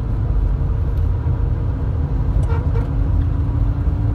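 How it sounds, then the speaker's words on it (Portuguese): A car drives along a potholed highway between Varjota and Cariré, weaving around holes; a loud, steady road rumble fills the whole stretch, with a brief horn-like toot partway through. "o carro que vem lá na frente fazendo, sendo obrigado a fazer zigue-zague de todo jeito"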